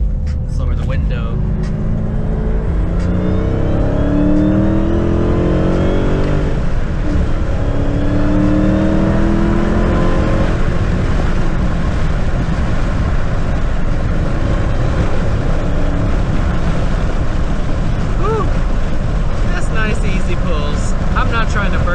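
A Dodge Hellcat pulls hard under acceleration with a rising supercharger whine over the roaring engine and tire noise, recorded from inside the car, continuous and loud, with occasional talk from the driver.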